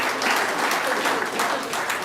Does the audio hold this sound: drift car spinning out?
no